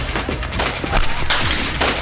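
Rapid bursts of gunfire crackle through a shootout in a dubbed web series, with sharp overlapping shots and automatic volleys close by and loud for two seconds.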